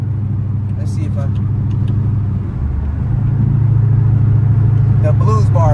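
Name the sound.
Hemi-engined car engine rumbling while driving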